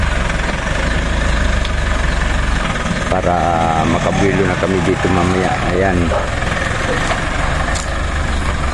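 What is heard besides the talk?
vehicle engine idling as it is moved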